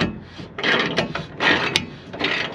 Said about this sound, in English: here you can see the bolt is just turning away inside that nut